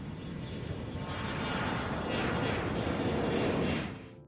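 Broadband aircraft engine drone of a P-38 Lightning with twin Allison V-1710 engines, steady and fairly loud throughout, swelling slightly toward the end before easing off, with no voices.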